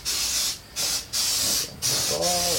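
Four short bursts of aerosol spray onto a urethane foam decoy mold, loud close hissing separated by brief pauses, with a voice speaking near the end.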